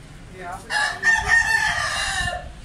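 A Mianwali Aseel rooster crows once, loud and close, a long drawn-out call over quiet background noise.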